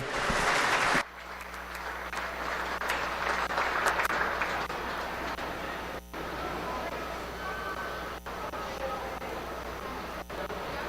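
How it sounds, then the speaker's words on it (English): Applause from a livestock show audience in an arena ring at a sheep show, a steady broadband wash of clapping after a loud opening burst, with crowd murmur and some background noise underneath. "let's go ahead and give our Unified Showman one last big round of applause"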